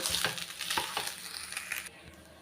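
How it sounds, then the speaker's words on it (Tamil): Cooked rice is stirred into fried capsicum in a hot pan, giving a soft sizzle with scraping spoon strokes, close and moderately quiet. "சாதத்தை சேர்த்து நல்லா கிளறி விட்டுக்கலாம்"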